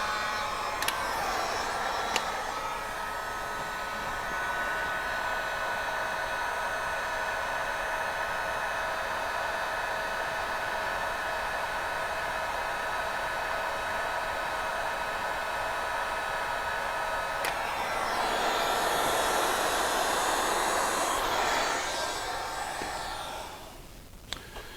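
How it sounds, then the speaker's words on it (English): A heat gun blows a steady, even whoosh for most of the stretch while melting solder-core heat shrink tubing during a horn and turn signal wiring install on a CF Moto Uforce 600, briefly shifting tone near the end before cutting off. "I'll take the heat gun and melt it down."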